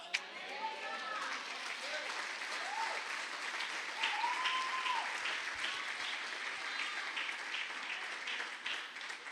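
A church congregation applauds steadily during a sermon, a dense wash of clapping hands with a voice speaking over it.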